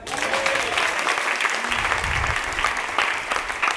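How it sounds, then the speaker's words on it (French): An audience at a conference applauds, dense, lively clapping that holds steady throughout, with a few voices faintly mixed in. "On l'applaudit quand même"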